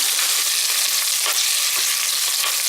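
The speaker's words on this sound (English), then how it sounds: "saute this for 2 minutes till the onion gets golden brown" Onions and green chilies sautéing in a pan for a village-style field gram rice, a steady close sizzle with faint stirring scrapes and no talking.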